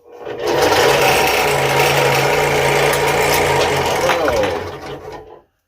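A scroll saw cuts a bevel-cut wood project with a loud, steady, close buzz that runs for about five seconds before the motor winds down.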